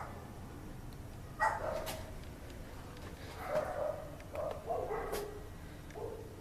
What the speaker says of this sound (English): The other one remembers a time when someone comes and rings the doorbell, so she barks.